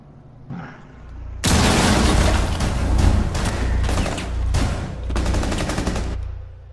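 Gunfire in a Rainbow Six Siege match: a loud, sustained burst of rapid automatic shots with a few brief pauses, preceded by a single earlier shot and tapering into a low rumble.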